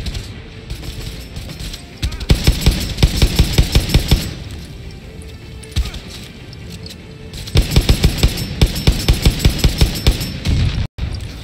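Rapid bursts of automatic gunfire from the video game Far Cry 6, loud and close, in two long clattering volleys separated by a quieter stretch, with a sharp crack near the end.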